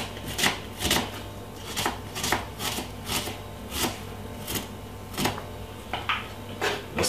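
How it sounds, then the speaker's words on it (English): A medium white onion, halved, is cut with a knife on a board while making Thai green curry chicken; a steady run of crisp chopping strokes, each a short bright tap, over a low background hum, no talk. "Let's cut it up like this."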